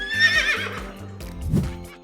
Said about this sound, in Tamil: இது குதிரை உர் உர் என கனைக்கும்